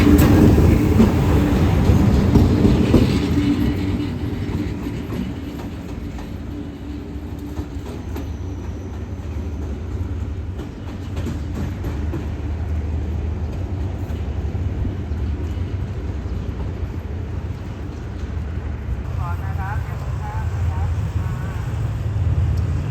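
An SRT Alsthom diesel locomotive running light past a station platform, its engine drone heavy and close at first, then a long steady rumble with faint wheel and rail noise as it moves along.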